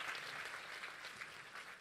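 A church congregation applauds steadily at a Spanish-language sermon service, a dense wash of many hands clapping at moderate volume with no voices rising above it.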